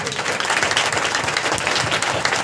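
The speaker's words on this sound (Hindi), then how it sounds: "ताली बजा दे जोर से, और तेजी से बजा, और तेजी से बजा" A church congregation claps hands loudly and rapidly together at a Sunday worship meeting, a dense, continuous burst of applause that fills the whole stretch, with faint voices mixed in.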